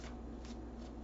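Tarot cards shuffled by hand in a brief, soft riffling burst, faint and close against a low steady background hum, with no talking.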